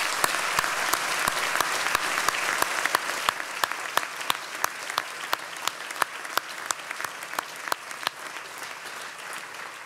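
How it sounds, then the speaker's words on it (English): Sustained audience applause at a university graduation ceremony in Falmouth, a dense wash of many hands clapping steadily for about ten seconds with a few sharp, close claps standing out above the crowd. "Please now join me in a round of applause."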